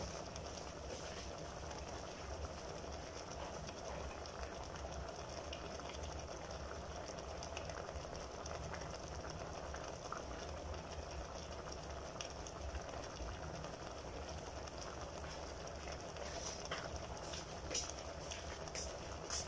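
Chicken broth for tinola boiling in a pressure cooker gives a steady, dense bubbling hiss that holds at an even level from start to finish, with no voices over it.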